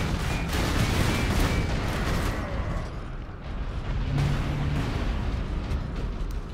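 Rumbling bursts of gunfire and booming explosions from the video game Warhammer 40,000: Space Marine multiplayer roll on continuously, dense and fairly distant, with a brief lull midway.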